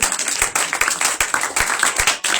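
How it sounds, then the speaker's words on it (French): A church congregation claps in praise, with sharp, roughly rhythmic hand claps over a steady wash of crowd noise that fills the space for the whole stretch. "Gloire à Dieu, acclame Jésus-Christ"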